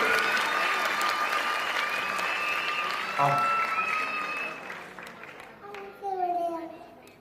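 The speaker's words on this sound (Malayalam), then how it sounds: "കയ്യടി കൊടുക്കണം പുള്ളിക്കാരനെ വലുതായിട്ട്." An audience at a stage event applauds steadily for several seconds, a dense wash of clapping with voices talking over it and a voice briefly audible.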